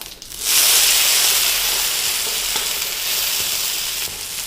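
Frozen American corn hits a hot pan with cumin seeds (jeera), breaking into a loud, steady sizzle and hiss after a brief quiet start that holds for several seconds with no talking.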